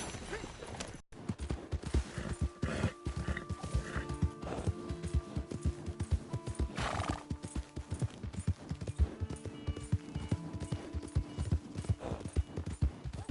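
Horse hooves clip-clop in a steady, quick rhythm in the video game Red Dead Redemption 2, close and distinct, with occasional faint clatter in the background.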